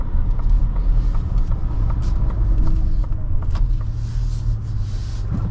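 Inside a moving 2024 Ford Ranger Raptor pickup, a steady low road rumble and engine hum fill the cabin, with faint clicks and rustles but no talking.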